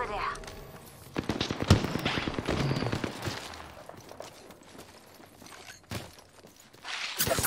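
Gunfire in the video game Apex Legends, bursts of rapid automatic shots and scattered single cracks in a chaotic firefight, with in-game voice lines talking over the shooting.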